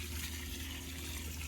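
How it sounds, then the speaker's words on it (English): Water pours steadily from a hose or can onto potted mango trees outdoors, a soft continuous gush heard up close with no talking over it. "what I'm doing now is watering them"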